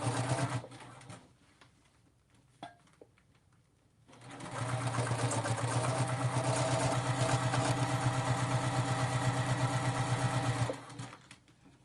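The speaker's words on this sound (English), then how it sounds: "Now I'm gonna finish stitching." A sewing machine runs in a steady, loud whirring stitch for several seconds while sewing a zipper pouch, preceded by a quieter stretch of small handling noises before the motor starts.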